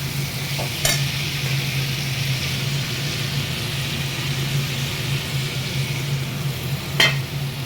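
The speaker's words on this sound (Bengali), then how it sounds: "টমেটো দিয়ে এবারে ভালো করে এটাকে কষাবো" Spices and tomato stir-frying in a pan, with a steady sizzle over a constant low hum and two sharp scrapes of a utensil, one early and one near the end, with no talking.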